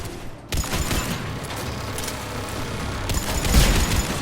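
Turret gunfire in the video game Mass Effect 3: a loud, sustained stretch of rapid shots and booming impacts, dense and continuous, swelling heavier near the end.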